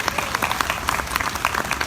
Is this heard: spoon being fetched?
no